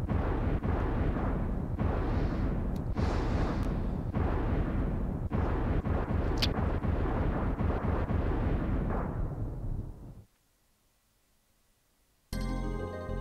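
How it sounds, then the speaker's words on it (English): Secret of Evermore video game explosions boom in a dense, loud rumbling barrage of repeated blasts and crackles for about ten seconds, then cut to near silence before a bright game sound returns. "same explosions, different colors"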